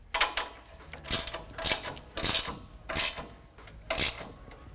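A ratchet with a 19mm socket tightens the nut on the lower coilover mount of a Toyota Tacoma in a run of close, crisp clicking bursts, repeating roughly every second.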